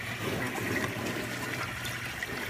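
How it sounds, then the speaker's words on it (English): Water in an aquaponics system runs continuously through 100-micron filter socks on a 55-gallon barrel and pours back into it, a steady close rushing splash. "the water just goes in and it goes back into the into the barrel which goes back into the sump tank"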